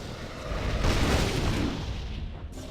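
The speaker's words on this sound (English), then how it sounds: "Grenade!" A grenade explodes in the video game Torchlight 2, a single loud, broad boom that swells and rolls out over about two seconds before fading.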